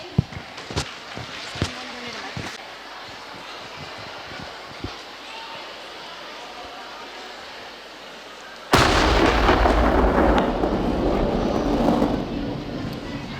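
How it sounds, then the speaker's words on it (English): A thunderstorm sound effect plays during a school stage play: several sharp thunder-like cracks and booms, then a sudden loud, sustained roar of rain and rumble that continues to the end; a voice is heard briefly. "I don't like thunderstorms."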